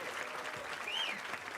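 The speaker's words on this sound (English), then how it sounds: "So can we give them another large," A ceremony audience at a nursing school white coat ceremony applauds with steady, dense clapping, heard at a moderate distance, with a faint whistle rising above it.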